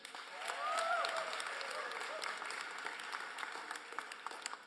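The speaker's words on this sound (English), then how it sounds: "Can we give a round of applause for Councilman James Torrance?" Crowd at an outdoor campaign announcement applauds steadily for a Baltimore city councilman, a continuous moderate wash of clapping with a brief whistle-like tone near the start.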